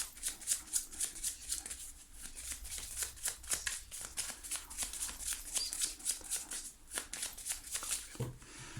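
Tarot cards being shuffled and cut by hand, a rapid, continuous run of crisp riffling flicks and taps, close and quiet, carrying on steadily without speech.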